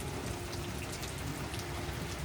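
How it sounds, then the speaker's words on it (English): Rain falls on a cold day, a dense, steady patter of drops on surfaces filling the whole stretch evenly, close and constant, with no voices. "It's a cold, rainy day."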